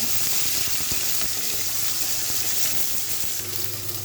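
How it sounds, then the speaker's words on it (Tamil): Green chili, garlic and curry leaves sautéing in hot oil for a homemade tomato onion curry, giving a steady close sizzle with faint stirring scrapes throughout and no talk. "பச்சை மிளகா பூண்டு கருவேப்பிலை எல்லாத்தையும் போட்டு நல்லா வதக்கிடணும்"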